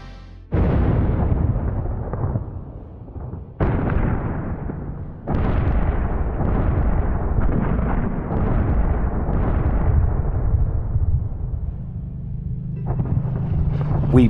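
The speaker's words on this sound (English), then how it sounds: "We bombard Iwo Jima." Naval bombardment of Iwo Jima in World War II: loud, heavy explosions arrive in several sudden bursts and merge into continuous deep rumbling and crackling, with no voices.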